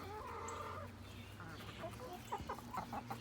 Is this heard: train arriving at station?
no